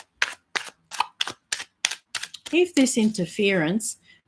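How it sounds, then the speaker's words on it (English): Tarot cards are shuffled in a run of sharp, evenly spaced riffling snaps close to the microphone, then a person starts talking over the last few. "I'm going to shuffle the cards now."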